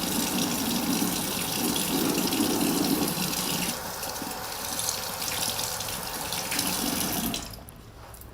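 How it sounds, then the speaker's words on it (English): A bathroom or kitchen tap runs steadily while hands are washed beneath it, a continuous close hiss of water with splashing shifts in tone, before the flow is shut off near the end. "Let me wash my hands first"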